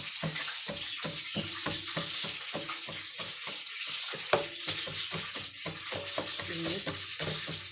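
Garlic fried rice (sinangag) with onion sizzles steadily in a pan, a continuous close hiss broken by scraping stirs, with no voices.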